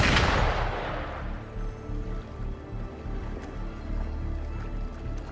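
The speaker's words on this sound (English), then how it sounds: "Gunfire! We've got intruder." A sharp blast opens, followed by a continuous rattle of distant gunfire and rumbling battle noise in the video game Wuthering Waves.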